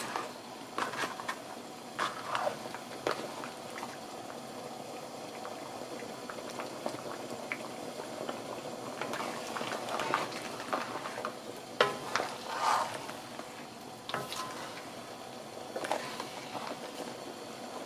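A pot of shrimp curry with lobster claws and potatoes simmers with a soft, steady bubbling and occasional stirring scrapes and splashes, fairly quiet and close.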